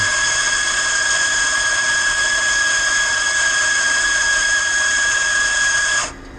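The built-in grinder of an Azkoyen Zensia coffee machine grinds beans with a loud, steady high-pitched whine that runs for about six seconds and then cuts off abruptly.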